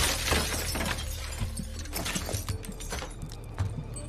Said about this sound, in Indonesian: Sam langsung memecahkan kaca jendela dan masuk ke dalam.